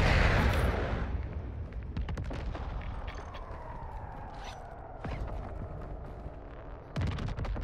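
A missile strike in a military video game: a heavy rumbling blast decays slowly under scattered crackling impacts, with a sharper bang near the end, all fairly distant and muffled.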